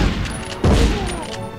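Gunfire in the PS1 game Medal of Honor: one loud booming shot bursts out near the middle and rings out as it decays, set against quieter background noise.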